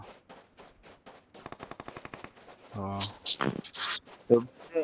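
Gunshots ring out in PUBG during a sniper-only match. Sharp, loud reports and a quick burst crack close by, mixed with lively speech.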